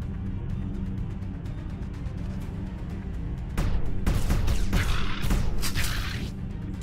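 Gunfire and explosive booms from the platform shooter Rogue Invader, a steady hum giving way midway to loud bursts of shots and crashing impacts that fill the rest of the clip.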